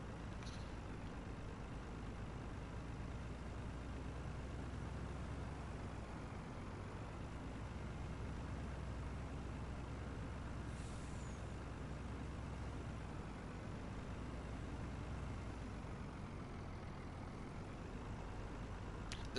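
Truck in Farming Simulator 19 with a steady, low engine drone as it drives at moderate distance. A brief hiss of air brakes comes near the middle, and the engine hum carries on evenly to the end.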